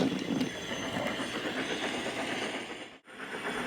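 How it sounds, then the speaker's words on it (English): Steady rumbling clatter of a train rolling along rails, with rhythmic mechanical clicking throughout and a brief dip near the end. "The next day, Gordon was traveling to collect his train"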